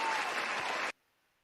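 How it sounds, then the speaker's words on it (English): Canned applause sound effect played during a live online session: a burst of crowd clapping and cheering that cuts off abruptly into silence after about a second. "I can do the applause for you"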